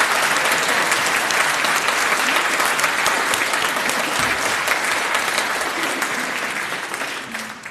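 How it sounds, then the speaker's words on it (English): Audience applause for Wayne's birthday at an evening event with an archbishop, a loud, sustained burst of clapping from a full room that holds steady and tapers slightly near the end. "we're going to give him a big round of applause"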